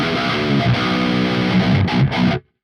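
A distorted electric guitar plays a short chordal phrase with no echo or reverb, cutting off cleanly into silence.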